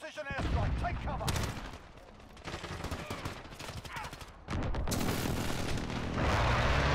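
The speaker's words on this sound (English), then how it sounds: "Enemy precision airstrike, take cover!" Explosions from an enemy precision airstrike in Modern Warfare multiplayer, a run of heavy booms and blasts mixed with gunfire, with a player talking over them.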